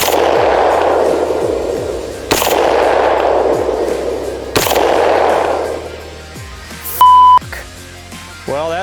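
Three loud, sharp 9mm hollow point shots ring out from an 8-inch barrel, evenly spaced with echoing tails, followed by a short electronic beep from a chronograph.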